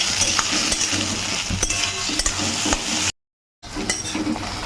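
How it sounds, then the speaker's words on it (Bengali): Chopped onions sizzle loudly in a pan while being stirred, with scraping spoon strokes and clinks; the sound cuts out briefly near the end, then resumes. "পেঁয়াজটাকে সুন্দর করে লাল লাল করে ভেজে নেব।"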